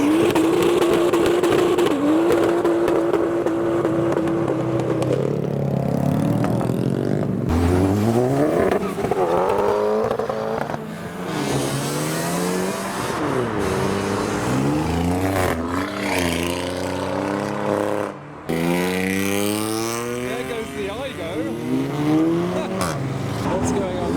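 Modified cars roll out of a car meet at an industrial estate, engines revving hard and rising through gears one after another, with tire squeal and bursts of loud acceleration close by, while people talk excitedly over the noise.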